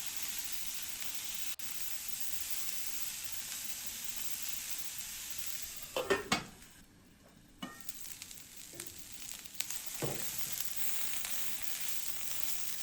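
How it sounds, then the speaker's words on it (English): Chopped onion frying in a pan as a chicken-and-rice dish is cooked, a steady close sizzle with a few louder stirring scrapes around the middle and a brief dip in the hiss before it resumes. "Add the onion, give it a quick mix,"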